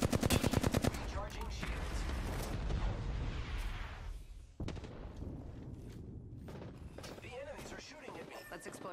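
Bursts of automatic weapon fire in the battle royale shooter Apex Legends, loud and close, with a rapid opening volley and scattered shots afterward, mixed with game voice lines and talking.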